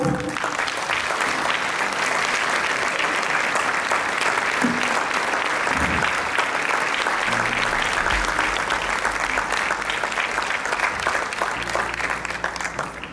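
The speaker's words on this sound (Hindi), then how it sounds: "जोरदार तालियां।" An audience at a school felicitation ceremony in Lucknow applauds in a steady, dense patter of many hands, continuous and fairly close, with low hum or music faintly underneath.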